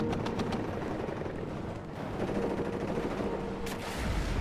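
Rapid bursts of gunfire and machine-gun fire crackle through a battle in the Cold War strategy game Warno, with dense overlapping shots and a sharp louder volley near the end, no talking.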